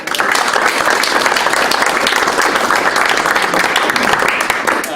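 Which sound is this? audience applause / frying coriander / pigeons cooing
audience applause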